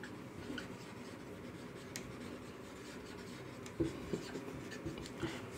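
Pen writing notes by hand on paper, a soft continuous scratching and rubbing close by, with a few faint taps as strokes end.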